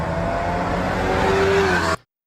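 An Alfa Romeo Giulia passes with a sustained, thin, whooshing exhaust note, then cuts off abruptly into silence just before the end.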